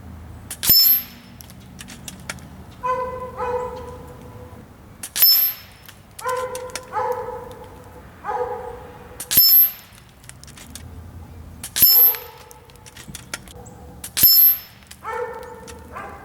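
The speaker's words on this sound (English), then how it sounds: "Here's the next 5-shot group at 45 yards" Five sharp shots from a .25 caliber Hades air rifle fired at a target 45 yards away, each a loud crack with a bright metallic ring, spaced a few seconds apart with quiet handling sounds between them.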